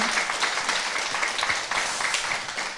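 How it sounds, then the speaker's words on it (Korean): Applause welcoming the poet Moon Jeong-hee at a Rock Poem poetry talk event, a steady patter of clapping from a modest indoor audience, moderately loud and continuous throughout the brief moment. "박수 한번 주시기 바랍니다."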